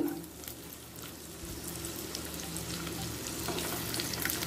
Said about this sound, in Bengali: বিন আর গাজরটা আমি একটু আলাদা আলাদা করে ভেজে নেব